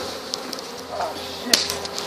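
Bees buzz around a bee removal, a faint, steady hum close to the microphone, broken by a few sharp clicks and knocks.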